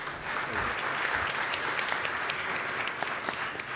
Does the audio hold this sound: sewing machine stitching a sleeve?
no